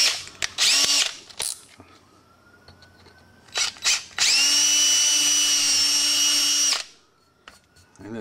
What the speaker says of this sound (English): All right, this is an 1/8 inch bit.